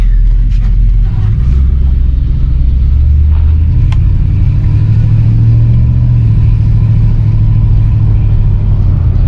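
A 1964 Imperial cruises along, heard from inside the cabin as a loud, steady low engine and road rumble with a slight swell as it pulls, and no talking.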